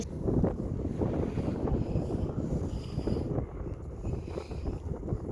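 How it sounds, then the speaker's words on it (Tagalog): Wind blows outdoors and rumbles against the microphone in a steady, buffeting stream with slight gusts throughout. "Masarap yung simoy ng hangin, napaka-presko"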